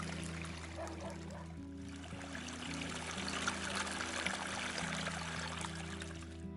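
Cold mountain spring water trickles and pours steadily close by on a walking trail, a soft continuous splash with faint background hum.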